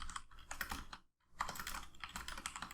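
Fast bursts of computer keyboard typing while coding in Unity for SteamVR controller haptics, close clicky keystrokes in two runs separated by a short silent pause.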